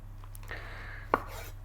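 A knife slicing onion into thin slices on a cutting board gives one sharp, close chop over a low steady hum, brief and isolated.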